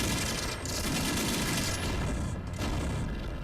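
Rapid, sustained gunfire from a gun turret in the Sega Dreamcast game Toy Commander, a dense continuous burst that barely lets up and briefly thins for a moment near the end.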